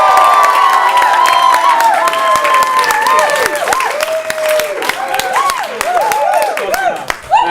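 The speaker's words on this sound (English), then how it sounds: "If you've had a good festival so far, give me a massive cheer" A festival audience at an international improv festival show cheers, whoops and applauds loudly, a dense sustained roar of clapping and excited voices that rises and falls over several seconds.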